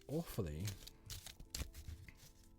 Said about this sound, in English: And I do apologise for the shuffling sound down the microphone.